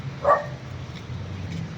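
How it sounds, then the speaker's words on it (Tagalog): A dog gives a single sharp bark early on, fairly close, followed by a low background hum and faint noise. "Gagalit yung aso."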